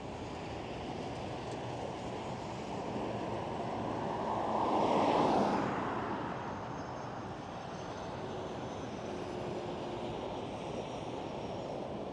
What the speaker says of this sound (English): the next EasyJet departing from runway 24